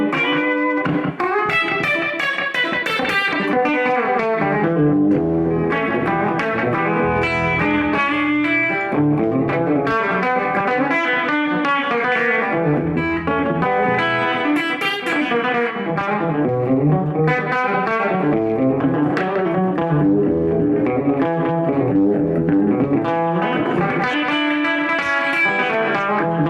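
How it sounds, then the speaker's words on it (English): Electric guitar played through a Boss RE-202 Space Echo pedal set for slapback delay, with no reverb added, a loose, steady stream of chords and lead lines with short echoes, loud and continuous with no talking. "this is a great slap back delay for sure."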